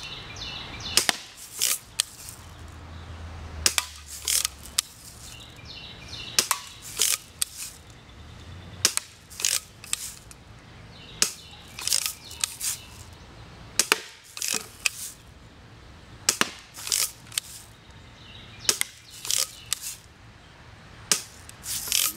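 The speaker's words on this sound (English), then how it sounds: "I've set up some cans and just some things to shoot at." A Daisy Red Ryder BB gun fires again and again at cans set up as targets, sharp snapping shots with metallic pings, coming in irregular clusters with short pauses between them and no talking.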